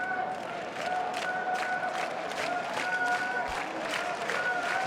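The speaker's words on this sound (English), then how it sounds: "The crowd applauding for one more score." Rugby World Cup 2019 crowd, Wales v Uruguay, applauding steadily in a big stadium, with a broad, continuous wash of clapping and distant cheering throughout.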